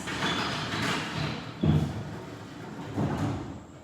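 An old pocket door in a historic mansion slides along its track, giving a rumbling roll with two heavier thuds, fairly close and steady with no talk over it.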